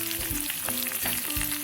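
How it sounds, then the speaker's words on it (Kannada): Chilli powder hitting hot oil already holding curry leaves, garlic and cumin seeds for a peanut chutney powder: a close, continuous sizzle and crackle with a few stirring scrapes, no voices. "ಅದೇ ಎಣ್ಣೆಯಲ್ಲಿ ನಿಮಗೆ ಎಷ್ಟು ಖಾರ ಬೇಕು 2ರಿಂದ 3 ಸ್ಪೂನ್ ಖಾರ ಹಾಕ್ಬಿಡಿ"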